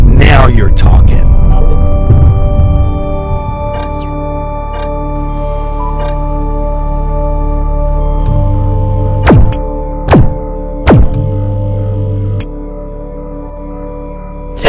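A spaceship weapon in the Space Rift video game fires three distinct shots in quick succession, sharp sweeping zaps over a low steady engine hum, following a burst of clattering and a voice speaking earlier.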